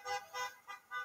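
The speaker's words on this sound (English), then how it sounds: "Vehicles driving by the group in Edmonton honking their horns in support as the group chants, axe the tax." Passing vehicles honk car horns in support of a street protest in Edmonton, several repeated toots in a regular on-off rhythm, moderately loud and clear over faint background noise.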